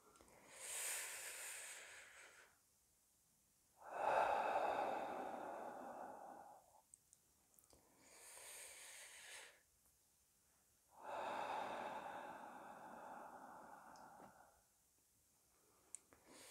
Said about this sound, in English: So if we take a few more deep breaths to absorb that joyful energy.